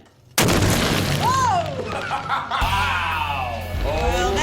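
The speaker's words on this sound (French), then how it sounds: "Objet à l'épreuve des explosions, la table en bois." A charge detonates against wooden tables in a blast-zone test, fired from a nearby bunker. One sudden, loud boom is followed by a long rumbling roar, with people chuckling and talking during the aftermath.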